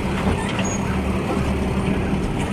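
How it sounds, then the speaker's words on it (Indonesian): A garbage truck runs close by with a loud, dense, steady roar of engine and road noise and no voices. "Ini ada mobil pengangkut sampah."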